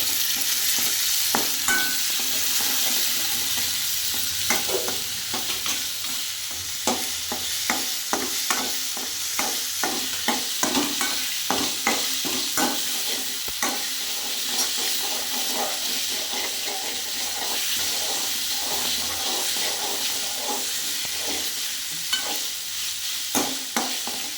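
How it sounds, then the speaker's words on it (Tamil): Tomatoes frying in a pan while being stirred, a constant loud sizzle broken by repeated scraping and tapping strokes of the spoon against the pan, close and without talking. "இப்போ தக்காளி போட்டு நல்லா வதக்கிக்கிறோம். இப்போ நல்லா கிண்டி விட்டுக்கலாம்."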